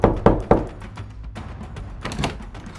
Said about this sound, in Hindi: तभी दरवाजे पर किसी ने जोर से दस्तक दी।